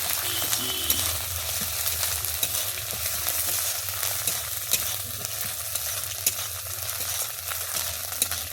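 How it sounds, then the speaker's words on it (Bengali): Steady sizzling of ginger and garlic frying in oil, with frequent sharp scrapes and clicks as it is stirred. "আমি ভালোভাবে এবার আদা রসুনটাকে ভেজে নিচ্ছি"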